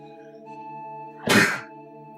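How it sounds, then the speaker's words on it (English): A single sneeze, loud and close, bursts out over steady game music and sound effects from an Illusion of Gaia play session. "sneeze alert"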